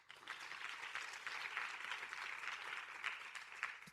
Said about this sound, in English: So you need to give yourselves a round of applause.